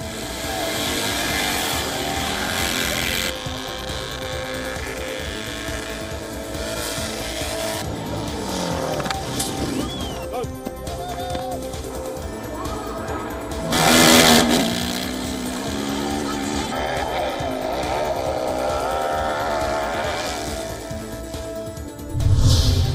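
Motorbikes roar through a snowy motorbike-and-ski relay race in Austria, engines revving and whining continuously at close range, with surges and a couple of loud passing bursts over a busy crowd-like background.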